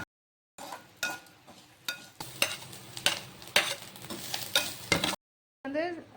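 Chana dal, urad dal, pepper, chili and coconut roast in hot oil in a kadai, giving a steady sizzle broken by repeated stirring scrapes and clatters, with a short gap of silence before a final burst of stirring.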